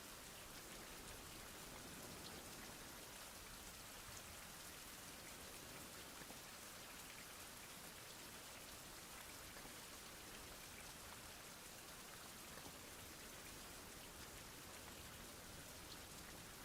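Steady rain falls in a survival video game, a soft continuous hiss of raindrops on surfaces that holds even and unbroken throughout, with no voices.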